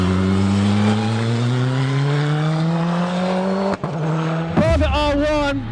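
Praga R1 race car on a circuit, a loud close engine drone whose pitch rises steadily under acceleration, cut by a brief gearshift dip, then sharp revving surges near the end.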